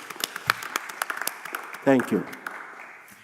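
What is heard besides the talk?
city council meeting applause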